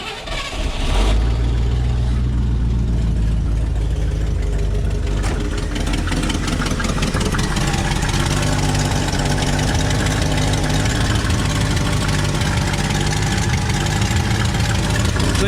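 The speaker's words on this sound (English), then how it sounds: "All right, first crank with a new fuel pump." A 1968 Ford F100 engine with a new fuel pump cranks briefly, catches and then runs in a loud, steady idle close by, with a little revving near the start.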